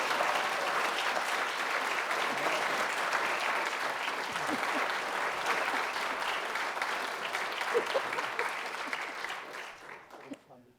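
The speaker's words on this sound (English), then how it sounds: "So let's have one more round of applause for our storytellers." An audience at a storytelling event applauds steadily for about ten seconds, a full, even wash of clapping that tapers off near the end.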